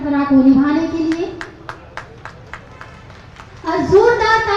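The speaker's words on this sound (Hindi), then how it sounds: "और जोरदार तालियों के साथ" Applause at a Chief Minister's public government event in Godda, a run of crisp, evenly spaced claps between stretches of amplified speech from a presenter.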